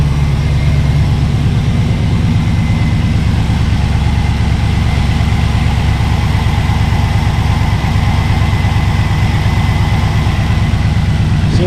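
A Chevrolet Caprice with a swapped LS engine idles steadily and loudly, its low rumble holding an even drone with slight surging waver throughout.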